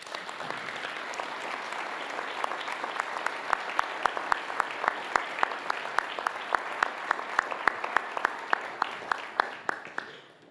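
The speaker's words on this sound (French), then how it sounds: "je crois que vous pouvez les applaudir." Audience applause at a company evening with elected officials, a steady wash of clapping with one nearby pair of hands beating out a sharp, regular rhythm that runs throughout.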